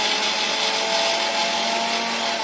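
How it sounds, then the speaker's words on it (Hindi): An electric grinder whirs continuously, loud and close, as it grinds cumin, dry mango powder and black salt, with a steady motor whine throughout. "सबसे पहले हम ये जीरा, अमचूर पाउडर और काला नमक को ग्राइंडर में पीस लेंगे।"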